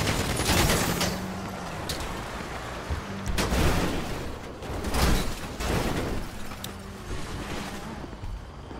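Gunfire during a video game police chase, dense crackling volleys of shots in several bursts over a noisy, cluttered backdrop with brief pauses between.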